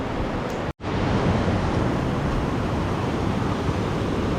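Ocean waves on a shallow beach on Costa Rica's Pacific coast make a steady, loud wash of surf mixed with wind buffeting the microphone, broken by a brief dropout just after the start.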